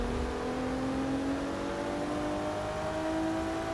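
Volvo S60 racing car engine in Forza Motorsport 6, a steady droning hum that climbs slowly in pitch as it accelerates, holding a constant loudness throughout with no talking.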